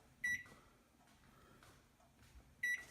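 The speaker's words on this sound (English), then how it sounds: "We're gonna put the timer for" Two short, loud electronic beeps from an oven timer while baking cracked-top molasses cookies, one near the start and one at the end, with faint kitchen clatter between them.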